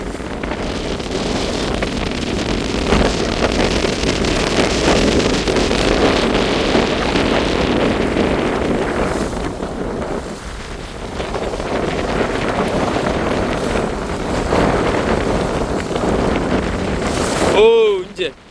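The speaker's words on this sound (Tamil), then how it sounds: "சரியான காற்று வீசி கொண்டிருக்கு" Strong storm wind blows along a seaside road near Ponnalai in Jaffna, a continuous buffeting roar mixed with crashing sea, easing briefly midway before rising again.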